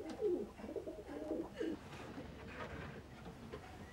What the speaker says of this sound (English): It's a racing pigeon.